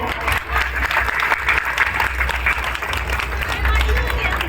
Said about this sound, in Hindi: मैं चाहता हूँ कि एक बार अपने अभिनंदन में तालियां बजाए